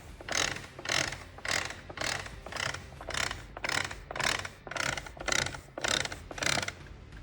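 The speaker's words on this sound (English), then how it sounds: "As it turns out, bigger gears hit things" Upgraded transmission gears in a turbocharged Acura RSX knocking against the reverse shift fork, a steady series of about a dozen evenly spaced mechanical clacks, fairly quiet and close, with no voices.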